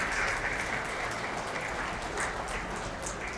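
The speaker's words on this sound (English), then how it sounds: "Let's give a hand of applause for these amazing men and women." An audience at an international peace awards ceremony claps steadily, a dense, even wash of applause from many hands that holds at a constant level throughout.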